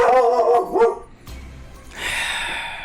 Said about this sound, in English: One bark of protest.